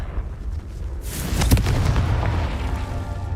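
A Confringo blasting-curse explosion in the video game Hogwarts Legacy sounds as a sharp, booming burst followed by a rumbling tail, preceded by a softer crackle.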